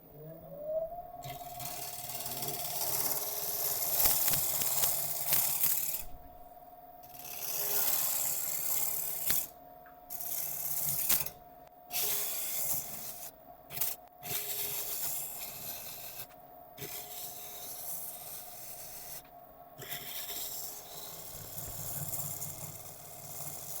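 A wood lathe turns a bowl from 50,000-year-old ancient kauri wood, with a droning spin and rasping tool cuts that stop and restart several times, loud and close, with no speech.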